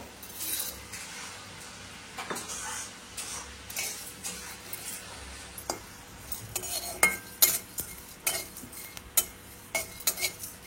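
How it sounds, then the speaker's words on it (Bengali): Whole spices (cinnamon, cardamom and cumin) roast in a hot kadai, heard as quiet scraping and a string of sharp ladle clicks and taps against the metal, growing busier toward the end, with no talking. "কড়াই গরম হয়ে গেছে, সব মশলাগুলো ভেজে নেব।"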